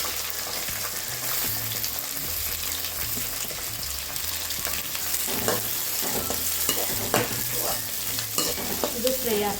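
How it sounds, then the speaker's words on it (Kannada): Green chilies and onion frying in oil in a pan for chitranna, a continuous close hiss and sizzle with occasional scraping stirs of a spoon against the pan, no voices. "ಇದು ಫ್ರೈ ಆಗ್ತಾ ಇದೆ"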